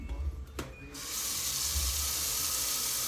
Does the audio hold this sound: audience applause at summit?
no